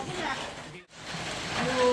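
Steady rain pattering at Pelangi Hill Resort campsite, a continuous hiss with a brief break partway through, with no talk over it.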